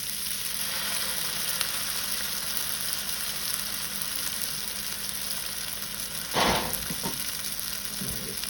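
Egg frying in a pan for mac and egg, a steady fine sizzle with a brief louder hiss and clatter near the end.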